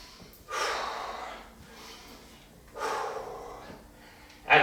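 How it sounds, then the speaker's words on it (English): Two deep, forceful breaths during a lunge workout, each a long rushing exhale roughly two seconds apart, close and fairly loud, with a sharp intake at the very end. "Deep breaths here."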